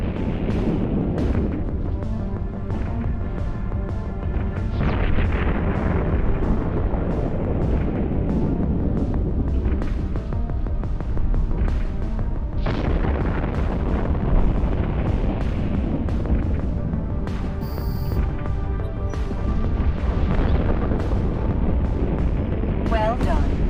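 Spaceship weapons fire and explosions in the EVE Online space combat game, a dense, continuous roar of blasts and booming impacts with repeated sharp bursts throughout, loud and without pause.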